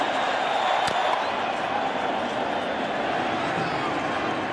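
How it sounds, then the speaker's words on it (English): A baseball stadium crowd in Philadelphia roars and cheers at a World Series game, calling for a curtain call after a home run. The noise is a broad, steady, distant wash of cheering under a commentator's talk. "Crowd wants a curtain call."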